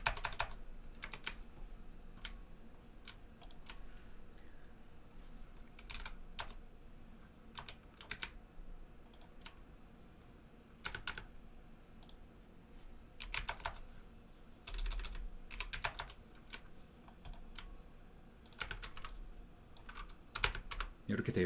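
Someone types on a computer keyboard while drawing in 3D modeling software, and the Shift key gets pressed. Sparse, crisp key clicks land near the listener in irregular bursts over a quiet background.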